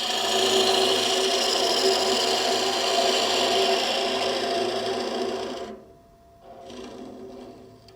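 A spindle gouge cuts into the end grain of a small wooden nut bowl spinning on a lathe, giving a steady, loud rasping scrape that stops abruptly near the end, then resumes more softly.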